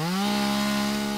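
An electric chainsaw runs loud and close with a steady, sustained motor whine that rises as it starts, as if cutting wood, the tone holding evenly throughout.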